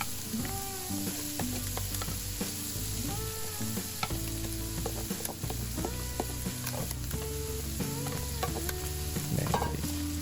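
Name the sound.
stir-frying rice mixed with abalone innards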